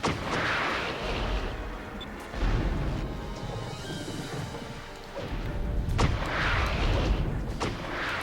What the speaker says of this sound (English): A freaking powerful lock-on weapon